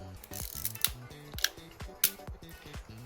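Rollei 35 compact film camera shutter firing repeatedly through its set speeds, a string of crisp mechanical clicks and snaps, close and fairly quiet, with no one talking.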